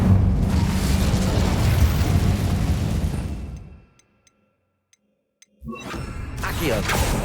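Incendio fire spell cast in Hogwarts Legacy: a loud, sustained roaring burst of flame that fades into near silence, broken by a few faint ticks, before a second burst of game sound starts.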